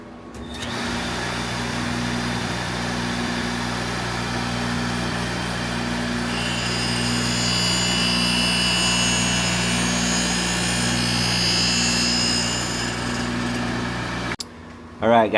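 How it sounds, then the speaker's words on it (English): A Foley 673 grinder grinds the top face of a thick new bedknife, a steady loud machine drone with a high metallic whine rising midway, running continuously before cutting off at the end. "we just finished grinding the top face"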